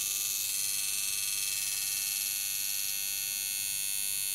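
A homemade tattoo machine powered by a 0.5 amp AC adaptor buzzes steadily and loudly, a continuous high-pitched electric whine that runs without a break for the whole stretch and cuts off abruptly at the end.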